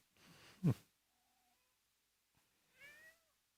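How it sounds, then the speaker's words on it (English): A cat with a touch of Siamese meows twice, one short call close by and a longer rising-and-falling call after a pause. Quiet stretches lie between the calls. "Talking cat."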